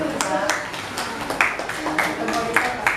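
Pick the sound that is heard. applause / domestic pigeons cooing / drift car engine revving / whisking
applause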